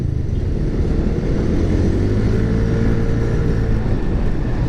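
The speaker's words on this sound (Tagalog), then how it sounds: "Medyo madami-dami pa rin sasakyan." Slow, congested road traffic with many vehicles, heard from inside a car, engines idling and droning steadily with a rising engine tone partway through, close and continuous.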